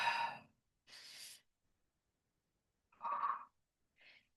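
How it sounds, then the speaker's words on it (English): Forceful breaths during an upper-body workout: two breathy exhales, then a pause and another strong exhale with a voiced edge, ending in a short softer puff, close and clear with no talk. "Nice, good exhale."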